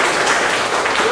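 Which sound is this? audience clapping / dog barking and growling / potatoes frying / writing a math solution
audience clapping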